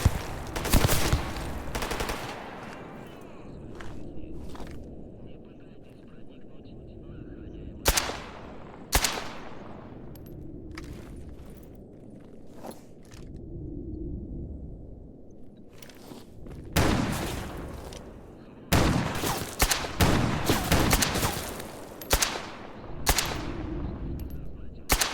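S.T.A.L.K.E.R. GAMMA gunfire comes in loud, sharp bursts of rapid shots separated by quieter gaps, some single cracks and some clustered volleys, with no talking.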